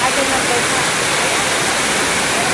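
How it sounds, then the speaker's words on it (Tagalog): Torrential rain keeps up a constant hissing roar, close and loud, with no distinct drops standing out from the wash of water. "Hindi tayo makagitna dahil napakalakas talaga ng ulan."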